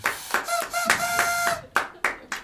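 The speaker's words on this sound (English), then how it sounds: "Give a round of applause for yourselves." Sparse, uneven hand claps ring out as an audience at a live podcast taping applauds. The separate sharp slaps sound close, with a faint tone lingering behind the first few.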